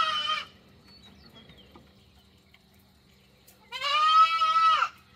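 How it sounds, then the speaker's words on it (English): Goats bleating on a morning farm pen: one brief call at the start, a quiet gap, then a long loud wavering bleat close by near the end. "Good morning, goats."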